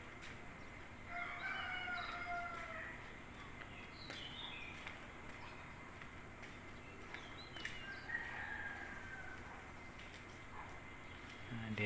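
Swallows near their nest and eggs chirp and twitter in short, faint bursts over a steady hiss of outdoor background noise.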